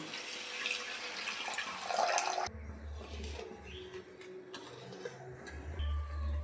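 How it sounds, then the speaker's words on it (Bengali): Water poured into frying spice paste in a pan for a Bengali prawn-stuffed pointed gourd curry, a gushing, running splash that starts abruptly midway and continues with bubbling and clatter, moderately close, with no talk. "এবার এখানে আমি জল দিয়ে দেব।"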